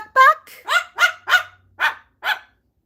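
A dog barks repeatedly indoors while looking out a window, about seven sharp, loud, close barks in an uneven rhythm with short pauses between them.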